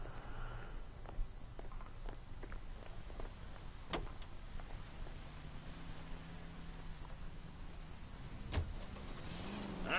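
A car is driven in the L.A. Noire video game, giving a low, steady engine drone under soft rain-like patter and scattered small clicks, with no talking.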